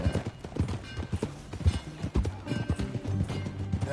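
Horse hooves clip-clop in a steady rhythm, close and loud, with a horse snorting or whinnying amid the hoofbeats.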